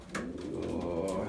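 A young pigeon or dove coos softly in a short burst, with a few low, breathy notes close by and no talk.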